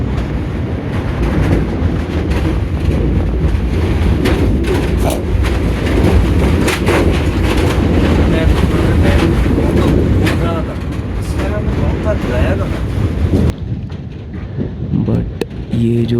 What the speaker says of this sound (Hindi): ये जो हवा का बहाव है, विंड स्टॉर्म है, ये ख़त्म ही नहीं हो रहा है।